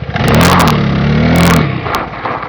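Vespa GTS300 scooter engine revving up hard and then cutting out abruptly, leaving a short, fading mechanical clatter and a couple of sharp knocks, loud and close.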